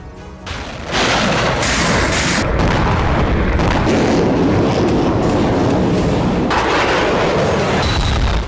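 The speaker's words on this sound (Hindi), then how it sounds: "सेवेस्तोपोल में कई धमाके की आवाज सुनी गई।" A loud, continuous roar of heavy blasts and rumbling booms in Sevastopol, dense and overlapping, with no voices heard.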